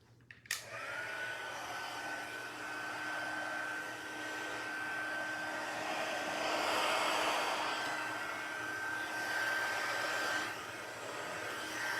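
A heat embossing tool blows hot air in a continuous loud whirring hiss with a steady high whine, running alone for about eleven seconds after a click at switch-on.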